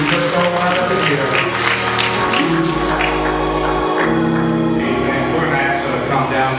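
Church congregation clapping during an ordination service at Amos Temple Church in Oakland, California, rhythmic applause blended with music and voices, continuous and loud throughout.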